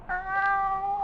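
A ship's cat meows once in a radio drama, a single drawn-out, clear, close meow lasting about a second against a quiet background.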